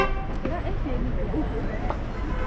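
Car horns toot amid busy Amman, Jordan street traffic, short honks over a constant roar of engines and passing vehicles, with a person talking nearby.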